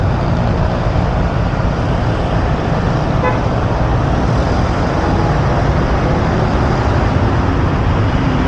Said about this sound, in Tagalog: Maraming sasakyan.